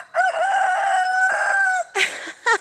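Chickens crow and cluck in a backyard sandbox at bedtime, a long rooster-like crow held for nearly two seconds followed by two short squawking clucks, loud and close with no talk.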